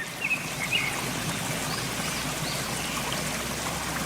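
River water in an animated game scene flows in a steady, soft rushing wash with faint trickling detail, continuous and unbroken, with no voices.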